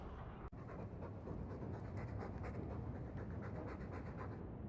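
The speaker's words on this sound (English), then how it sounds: "All that noisy dog breath" A dog pants in the Dragon Age 2 video game: quick, steady, rhythmic breaths, close and fairly quiet, after a brief click at the start, with no talk.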